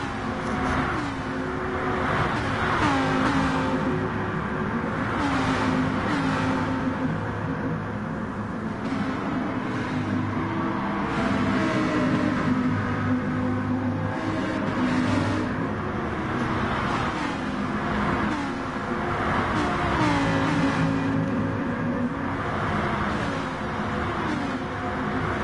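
Group 4 race car engine at Monza in a racing video game, a continuous close engine howl that rises and falls through gear changes and revving, with no one talking.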